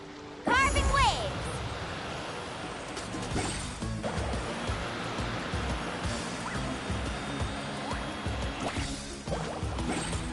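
Ocean waves in the video game Genshin Impact while surfing, with a loud splashing crash near the start and then constant rushing surf. Game sound effects and voices come through over the water.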